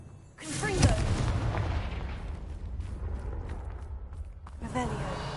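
The Confringo blasting spell from Hogwarts Legacy detonates as a sudden loud boom, followed by a lingering rumble and crackle that fades, with a smaller burst near the end.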